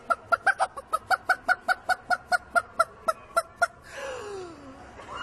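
A man imitates a chicken with a rapid series of about fifteen loud, evenly spaced clucks at an FFA gathering in Indiana, after which crowd noise and cheering rise.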